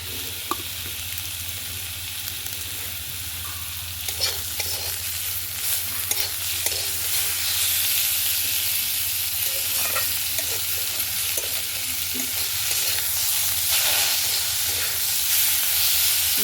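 Fish oil is frying in a pan with cauliflower florets and softened onion, giving a steady loud sizzle and hiss, with stirring scrapes and clicks scattered throughout and no voices.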